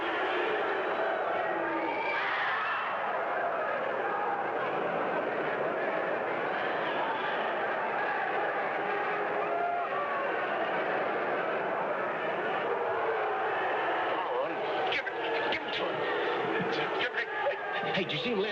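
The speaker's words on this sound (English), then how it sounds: "That crowd roar." Boxing-fight crowd in a dense, continuous roar that swells and churns throughout, with a sharper burst of noise near the end.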